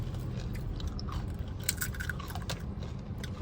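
Close, crisp crunching as someone chews a crunchy local snack, bought as a souvenir on a culinary tour in Ulakan Tapakis. It comes as a steady run of small bites and crackles over room background, with no talk.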